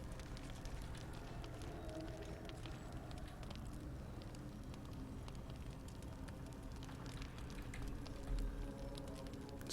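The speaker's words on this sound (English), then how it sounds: "You can hear the crackle of the fire." A campfire crackles steadily in the Baldur's Gate 3 Underdark, a dense bed of fine pops and snaps running continuously at moderate level, with no speech over it.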